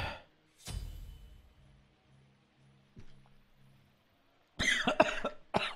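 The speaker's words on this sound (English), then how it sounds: "I went down the wrong pipe, but I coughed with my mouth closed anyways" A single cough from someone who choked on a drink, muffled with the mouth closed, bursts out loud and close, followed by a few more rough cough-like bursts after a quiet stretch.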